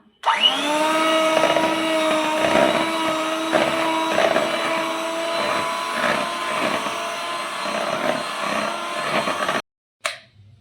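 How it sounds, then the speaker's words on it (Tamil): An electric mixer whirs steadily at close range while beating egg into cake batter for a no-oven pineapple upside-down cake, a loud continuous motor hum with rhythmic thumps from the bowl, cutting off abruptly near the end. "இப்போ பீட் பண்ணிக்கலாம்."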